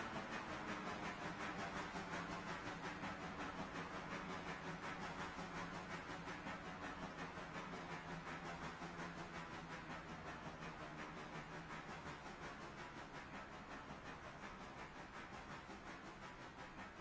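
A train engine in the railroad video game Railroader labours up a hill, giving a steady low rumble and hiss with fast rhythmic chuffing that fades slightly over about seventeen seconds, with no voices.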